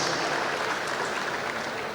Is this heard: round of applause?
yes